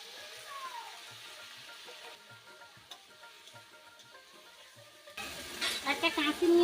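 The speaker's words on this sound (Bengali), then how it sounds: "এবার আলু কচুটা একসঙ্গে নেড়ে নিচ্ছি।" Potato and taro pieces stirred together in a wok while frying, with soft scraping and a low sizzle that grows louder and busier near the end.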